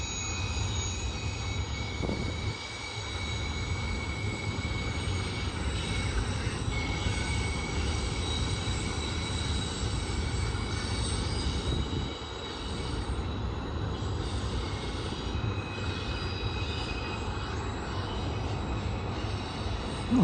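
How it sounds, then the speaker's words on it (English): A long combo stacked Z intermodal freight train rolls steadily past at Sullivan's Curve, a continuous loud rumble of wheels and cars with faint high wheel squeal running throughout. "Kind of long for a Z train"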